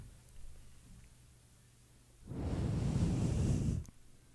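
Broadband white noise played as a podcast gag, bursting in loud and steady for about a second and a half after a quiet stretch, then cutting off abruptly.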